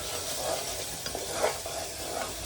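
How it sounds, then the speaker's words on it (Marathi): A spice masala sizzles and fries in a pan while being stirred continuously, a dense crackling hiss with a soft scrape of the spoon now and then. "आणि कंटिन्युअसली त्याला हलवत राहायचंय, जेणेकरून आपला मसाला जळणार नाही खालून."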